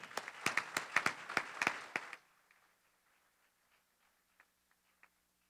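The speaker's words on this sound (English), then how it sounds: "Give yourselves a round of applause." A short burst of convention audience clapping and applause lasting about two seconds, then fading into near silence with a few faint ticks.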